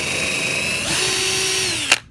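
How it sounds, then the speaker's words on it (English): A power drill whirs steadily and up close while pre-drilling and driving screws into a sawhorse desk, its motor pitch shifting partway through before winding down and ending on a sharp click. "pre-drill and putting those screws in"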